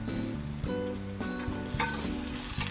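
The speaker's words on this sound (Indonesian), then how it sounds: "Saya masukkan daun bawang. Saya ambil yang putihnya aja. Saya tumis sekejap aja sampai layu aja." White parts of spring onion sautéing in a pan for a chicken soup, a steady close sizzle with scraping stir strokes and soft background music.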